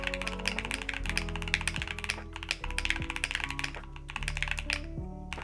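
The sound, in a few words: typing on mechanical keyboard with milky yellow switches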